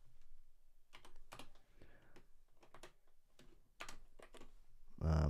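Computer keyboard typing in quick, light bursts of clicks separated by short pauses, fairly quiet and close, ending in a louder thump.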